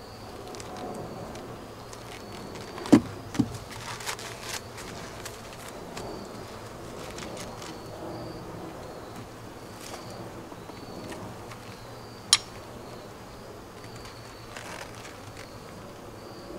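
Honeybees humming around an open beehive during an inspection, a low steady droning buzz throughout, with a few sharp knocks and clicks of hive frames and tools.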